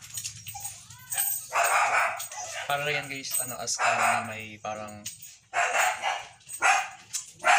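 A golden retriever barks and yips among other dogs at a free pet vaccination event in a village neighborhood, the short barks scattered through the clip under near, continuous talking by a man.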